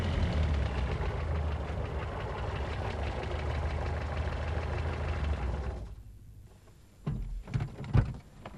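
A car engine hums steadily close by for several seconds, then drops away and leaves a few louder knocks and thumps near the end.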